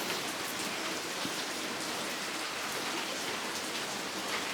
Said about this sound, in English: Yeah, it's pouring rain.